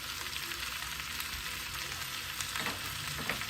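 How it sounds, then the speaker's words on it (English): Seasoned, pre-salted boiled gizzard for Nigerian peppered gizzard frying in a pan, a dense continuous sizzle close by with a few faint scraping stirs, no voices. "We're just going to let everything cook together with this gizzard."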